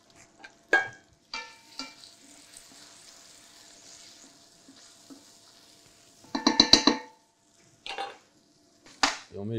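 Aromatic garnish hits hot olive oil in a saucepan, bursting into short crackling sizzles with a few stirring clatters in between, close and moderately loud, with quiet gaps between bursts.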